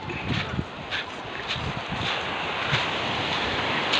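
Sea waves wash steadily over a rocky, stony beach in Aurora, a close, continuous rushing surf with gusts of wind buffeting the microphone and no voices.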